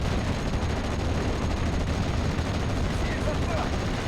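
Gunfire in the Steel Division: Normandy 44 war game at Pointe du Hoc, a dense, continuous roar of rifle and machine-gun fire with distant artillery booms, loud and unbroken throughout.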